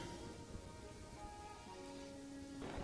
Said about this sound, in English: Nice relaxing thunderstorm. The rain sounds really nice.